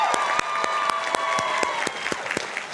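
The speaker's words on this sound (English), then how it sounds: "Let's give them a round of applause." Audience applause at a Class of 2023 college commencement ceremony, a steady wash of many hands clapping with sharp individual claps standing out at a regular pulse, fairly loud and sustained throughout without speech.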